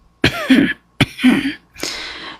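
A voice imitates throat clearing three times in a row, short gruff rasping bursts separated by brief pauses, close and loud.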